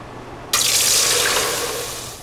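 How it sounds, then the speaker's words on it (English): Water poured into cranberry juice to thin it for an oatmeal dessert, starting suddenly as a loud rushing splash like a running tap, then easing slightly as it keeps flowing. "I'm gonna go ahead and add just a little bit of water, thin it out."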